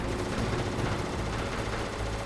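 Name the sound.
gunfire in video game Metal Gear Solid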